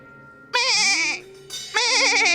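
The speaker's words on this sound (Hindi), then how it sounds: "चील के मुंह में बकरी है ना, वो आवाज कर रही है।" Goat bleating in two loud, wavering cries separated by a short pause, close and clear; the goat is carried in a kite's beak in a comedy sketch setting.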